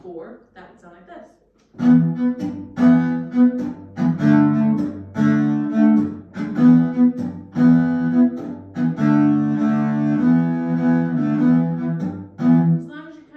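Solo fiddle bows a rhythm for Brown Sailed Boat with a percussive chop on beat four of each bar, after a short soft lead-in, with sustained notes and regular scratchy accents, close and clear.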